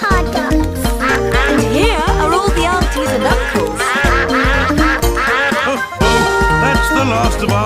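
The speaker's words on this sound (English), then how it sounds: "Here come more ducks." Ducks quacking over busy music, with several quacks close together and an upbeat tune playing throughout.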